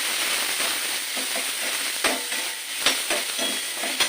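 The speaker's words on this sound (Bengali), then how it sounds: "আবার আদাটা দিয়ে একটুখানি ভেজে নেবো" Ginger paste frying in a pan for a Bengali curry of pointed gourd, egg and potato, a steady close sizzle with a few soft stirring scrapes, and no talk.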